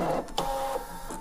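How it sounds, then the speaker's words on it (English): A Brother ScanNCut machine cuts a one-colour text design for a T-shirt, a steady close mechanical whir with quick motor pitch shifts as the blade carriage moves. "I do always like to watch the machines cut."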